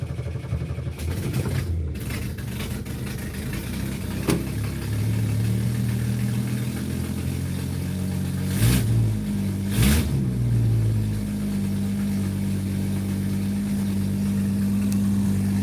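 A 1970s hot rod car engine idles with a low, steady rumble, then is blipped twice in quick sharp revs before settling back to its even idle, with no speech.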